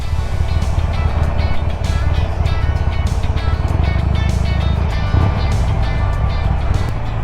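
A 2021 Harley-Davidson Iron 1200 motorcycle's engine runs steadily at close range, a loud, continuous low rumble throughout with no talking.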